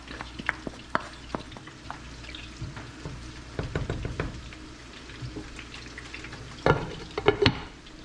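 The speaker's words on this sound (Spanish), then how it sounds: "ya terminé friendo las albóndigas" Meatballs for meatball soup frying in a pan, a soft crackling sizzle with scattered pops and a few louder clattering stirs near the end.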